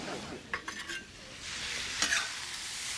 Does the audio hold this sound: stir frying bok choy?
yes